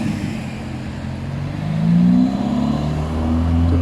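Ferrari Daytona SP3 driving past on the road near Maranello, a throaty engine note that rises and swells as the car nears, then holds a steady rumble, fairly loud and close.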